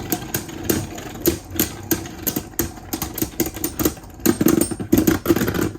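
Beyblade Burst Sparking tops, World Spriggan and King Helios, spin and clash in a plastic stadium, giving a steady whirring hum broken by rapid, irregular clicks and sharp knocks from repeated collisions.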